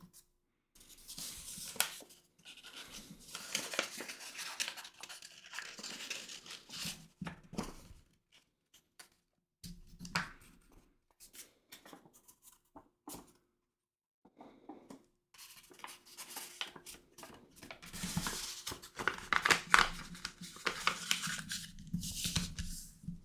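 Sheets of origami paper are creased and folded while making a paper crane, with soft rustling, rubbing and crinkling that come in bursts and pauses, close and gentle throughout.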